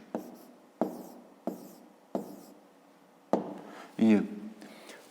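A pen scratches out an answer by hand in a few short strokes at a steady pace, and a voice speaks over the last part.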